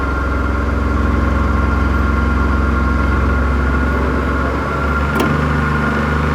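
A three-phase induction motor running at about 1500 rpm on a lab bench, giving a loud, steady hum with engine-like low harmonics, continuous and close, with a brief click near the end.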